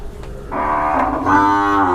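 Cattle at a livestock market in Wang Prachop, Tak, give one long, loud, close moo that rises partway through and holds to the end, with no talk over it.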